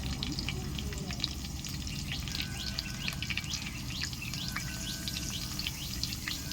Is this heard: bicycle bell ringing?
no